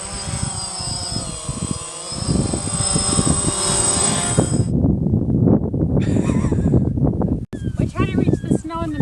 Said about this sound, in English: This is the first time I've tried this drone out in the real world